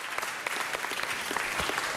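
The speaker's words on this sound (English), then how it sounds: "Give Branimir a round of applause." A round of applause in a Los Angeles City Council chamber, many hands clapping in a steady, even patter of moderate loudness, heard alone with no talk over it.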